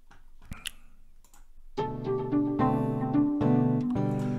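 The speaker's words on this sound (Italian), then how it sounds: "invece non ho messo un accordo, ma un arpeggio discendente" A descending arpeggio is played on an instrument after a few faint clicks and ticks. The notes step down one after another, fairly close and clear, ringing into each other, with no talking.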